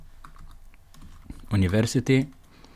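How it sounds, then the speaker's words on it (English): Keys clatter on a computer keyboard while Java code is entered, the light clicks soft and scattered, then a short burst of louder voice-like sound takes over near the end. "So I'm gonna go up here and I'll type university"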